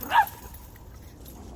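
A dog gives one short yip or whimpering bark near the start, then quiet indoor room tone.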